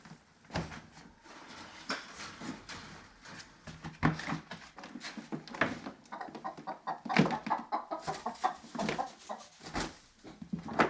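Chickens cluck and call outdoors in the sun on a farm, a busy flock with irregular clucks and squawks close by, with no talk.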